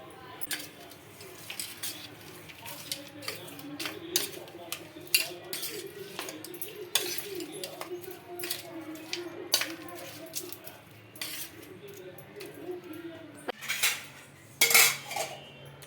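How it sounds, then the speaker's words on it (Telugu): A spoon mixes tempering into a dish, giving quick metallic clinks and scrapes against the vessel in an irregular run, close and fairly quiet, with a few louder knocks near the end. "ఇంకా పోపు వేసుకొని బాగా కలుపుకోవాలండి"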